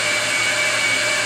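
A brake lathe makes light, non-aggressive dry cuts of 10 to 20 thousandths on Nissan Altima brake rotors, giving a steady, loud, even whir with a faint high tonal whine and no talk.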